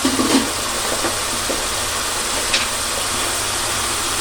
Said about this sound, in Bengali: মশলাটা কষানো হয়ে গেছে আমি এখানে এখন দিয়ে দিব চিচিংড়া